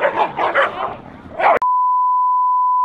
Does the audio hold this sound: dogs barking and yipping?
yes